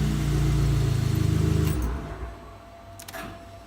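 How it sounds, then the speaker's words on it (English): Alfa Romeo Mito QV with a Unichip U-Fit power plug, on a dyno: its engine runs with a steady, fairly loud hum for a couple of seconds, then settles to a quieter, lower rumble with a few faint clicks. "And the car starts."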